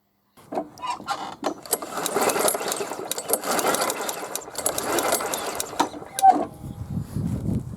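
A lawn mower starter cord is yanked several times to check the spark, each pull a loud ratcheting whir close by, repeated in quick succession without the engine catching.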